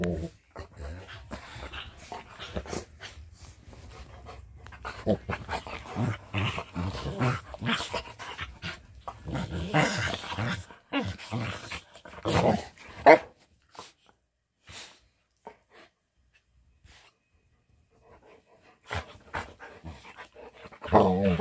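Two playful dogs romp close by with bursts of panting, snuffling and low growls, intermittent through the stretch, with a person's voice calling out now and then between their noises.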